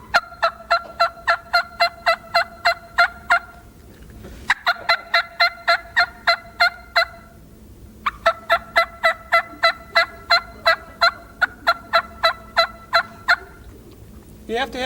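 A diaphragm call imitates a wild turkey hen's yelp in three bursts of rapid, evenly spaced raspy notes, with short pauses between the runs, loud and close with no talk.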